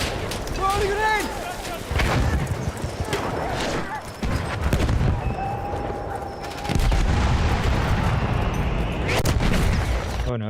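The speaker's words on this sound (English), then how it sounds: "Throwing a grenade! Throwing a grenade!" Grenade explosions and gunfire from the Battlefield 1 video game, with booming blasts and sharp shot bursts layered close and loud across the battle, while voices shout over the combat.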